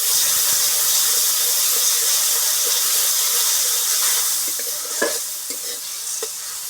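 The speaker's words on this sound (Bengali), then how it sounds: "এবার দিয়ে দেব সামান্য জল।" A small splash of water goes into a spiced catla fish curry with cumin and chili powder, setting off a loud, close sizzle and hiss that fades partway through, followed by a few light utensil clinks.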